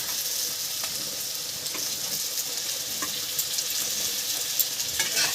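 Eggplant pieces frying in hot oil for a Bengali cauliflower stem curry, a steady soft sizzle with faint crackles and light stirring scrapes, close and continuous with no talking.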